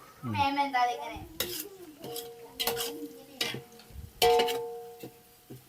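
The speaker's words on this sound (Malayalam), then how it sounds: "ആ ചീനച്ചട്ടി എടുത്തിട്ട് അതിൽ വറക്കാല്ലേ?" Chilli chicken pieces frying in a cheenachatti, a Kerala wok, with stirring scrapes and clinks of a utensil against the pan, close and moderately loud, while people talk over it.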